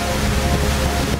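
Waterfall in a cave gallery, a dense, loud, continuous rushing roar of falling water filling the space with no pauses or talking.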